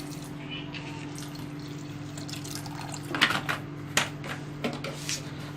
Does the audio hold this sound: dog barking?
no